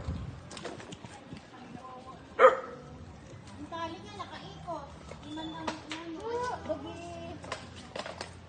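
A dog gives a single sharp bark, followed by scattered softer woofs and knocking sounds while people talk nearby.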